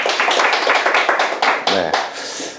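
An audience claps in a steady, fairly loud round of applause indoors, the hand claps blending into a dense patter for a couple of seconds, with a brief voice murmuring partway through.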